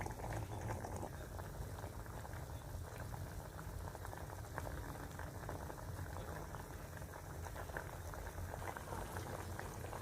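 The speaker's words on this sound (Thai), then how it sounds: "เดือดโอ๊กโอ๊กโอ๊กโอ๊กเลยพี่น้อง" Pla ra dip of fermented fish and coconut milk boils steadily in a pot, a dense, continuous bubbling and popping heard up close with no pauses.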